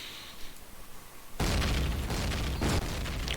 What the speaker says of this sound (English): Some really good nades from Poker Faces.